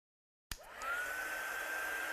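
A heat gun switches on abruptly and blows a steady, whooshing hot-air roar with a thin whine, drying acrylic paint in a craft setting, continuous and close.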